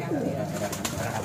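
A pigeon coos softly nearby in a loft or pigeon-keeping area, a short low murmuring call with a faint background of other sounds.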